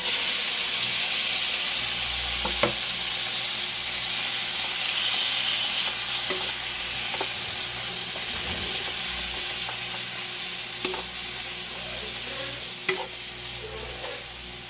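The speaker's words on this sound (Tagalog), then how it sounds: "Igisa ko muna siya sandali bago ko ilagay yung kanyang sauce para mapalambot yung ating beef." Beef sautés with browned garlic in a pan, a loud continuous sizzle and hiss broken by occasional clinks and scrapes of stirring.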